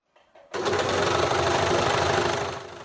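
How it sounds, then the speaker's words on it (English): A sewing machine starts up after a couple of brief clicks and runs steadily at speed, a loud rapid mechanical whirring that eases off slightly at the end. "at her sewing machine running up scrubs"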